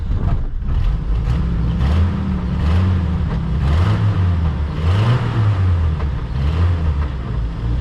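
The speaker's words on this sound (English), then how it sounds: "Let's see if it squeals any if we give it a little throttle." Engine of a neglected Jeep Wrangler fitted with a new drive belt, idling and then blipped with a few rising and falling throttle revs, close and steady with no clear belt squeal.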